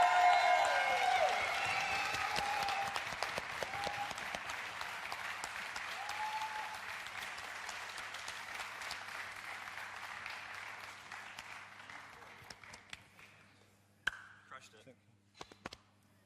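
A live audience at a cocktail bartending competition semi-final breaks into sustained applause, loud at first and gradually thinning out over about fourteen seconds, then fading to a few scattered claps and murmurs.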